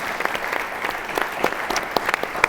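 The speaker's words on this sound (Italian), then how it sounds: "Beh, direi che possiamo fare un applauso" An audience at a book presentation claps in a short burst of dense, close applause that stays steady for a couple of seconds.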